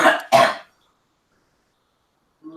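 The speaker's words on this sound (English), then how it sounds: "the mouth when you cough" A person coughs twice in quick succession, close and sharp, followed by a long silence and a faint bit of sound at the very end.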